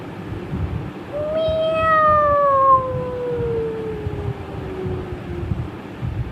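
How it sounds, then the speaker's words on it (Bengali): A single long, drawn-out cat meow rises and then slowly falls over several seconds, fairly loud and close, with low background noise and no talk. "বাবা, আবার মিয়াও মিয়াও করছে।"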